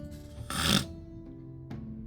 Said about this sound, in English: I see a cat with his head lowered to his chest, snoring softly